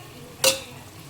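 Washed chicken pieces drop into a pan of lightly softened ingredients with a single sharp sizzling hiss that fades quickly into a low background.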